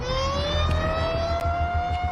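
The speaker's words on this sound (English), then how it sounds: "this tornado siren started going off" An outdoor tornado warning siren wails in Shreveport, a steady rising tone sustained loud across the whole stretch, with low traffic rumble underneath.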